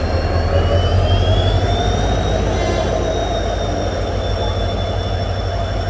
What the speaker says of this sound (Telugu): ప్లాట్ఫామ్ నెంబర్ 2 నుంచి 18516 డీజిల్ ఇంజన్ లోకోమోటివ్తో డిపార్ట్ అవుతుంది